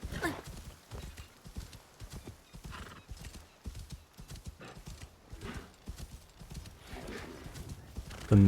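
Horse hooves in the video game Assassin's Creed Shadows clip-clop in a steady walking rhythm, fairly quiet and continuous, with a brief whinny mixed in.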